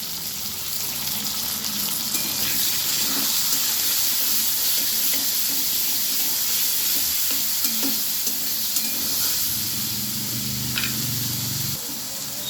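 Onion, garlic and ginger paste hitting already-fried potatoes in a pan, a steady loud sizzle with occasional stirring scrapes running continuously throughout.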